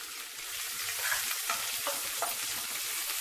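Chopped onion sizzles steadily as it fries in a pan of oil with garlic for bhindi masala, a continuous close crackle with a few brief stirring clinks, no talking.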